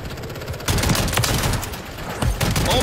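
Rapid automatic gunfire in the video game Modern Warfare 3, a loud dense burst of shots lasting a couple of seconds, with a short gap before it resumes.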